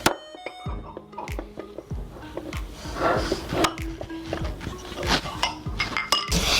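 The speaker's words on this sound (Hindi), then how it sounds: "और अब हम इन सारी चीज़ों की अच्छे से मिक्सी कर देंगे।" Repeated clinks and scrapes of a utensil against a bowl while mixing dry ingredients, including baking powder, for nan khatai cookies, an irregular rhythm of close, sharp taps and stirring sounds.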